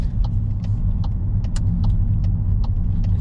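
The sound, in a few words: car driving, turning into car park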